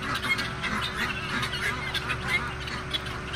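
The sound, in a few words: birds calling noisily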